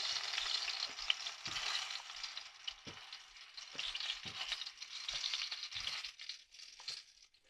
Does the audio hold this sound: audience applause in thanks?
no